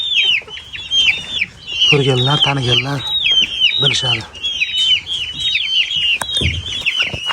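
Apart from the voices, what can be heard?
Japanese chickens clucking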